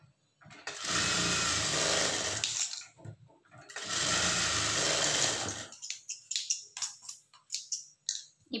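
A sewing machine stitches the shoulder joint of a blouse in two loud continuous whirring runs of about two seconds each, separated by a short pause, followed by scattered clicks and handling taps.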